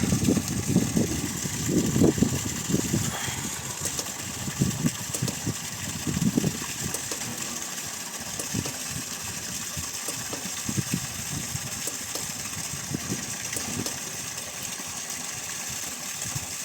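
A 7.5 HP solar-powered water pump motor runs steadily at 2900 RPM, its constant hum mixed with water gushing forcefully from a 1.5-inch delivery pipe, a continuous loud churn with no voices throughout.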